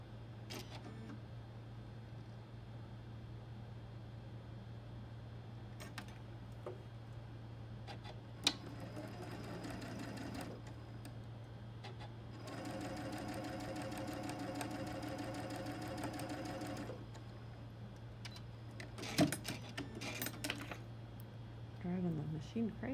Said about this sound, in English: as I sew this one on here